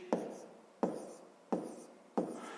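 Chalk or marker writing numbers on a board during a fifth-grade math lesson, four sharp strokes evenly spaced about a second apart, each tapping on then scraping briefly, close and fairly quiet with no voice.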